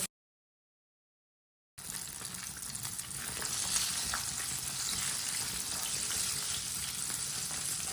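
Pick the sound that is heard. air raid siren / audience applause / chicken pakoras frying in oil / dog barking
chicken pakoras frying in oil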